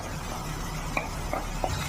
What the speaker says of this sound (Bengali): আমার বাটাটা, মশলা বাটাটা দিয়ে আমি কষিয়ে নেবো।